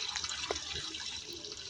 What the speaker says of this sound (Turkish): Duşumuzu alalım. Duş da çok güzel.